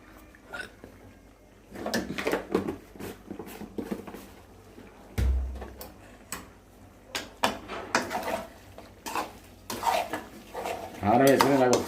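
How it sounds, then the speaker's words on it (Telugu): Chili powder stirred into chicken liver frying in a pan: irregular metallic scrapes and clanks of a spoon against the pan, close and fairly loud, with a soft sizzle beneath. "కారం వేసుకుని నాకు ఒకసారి కలుపుకోండి దీన్ని"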